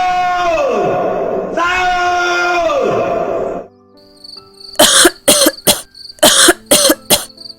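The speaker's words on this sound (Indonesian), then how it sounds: "sepertinya saya mendengar suara mak batuk" Two long wavering cries come first, then a run of sharp, loud coughs in quick bursts, close by.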